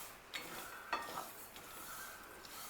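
Quiet scrapes and light clinks of stirring on a hot griddle pan with the gas off, a few soft strokes over a faint background hiss, no voices.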